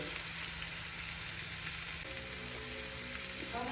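Meat frying in a pan for Turkish tava kavurma made from barbecue meat, a loud, continuous close sizzle throughout, with a steady tonal hum joining partway through.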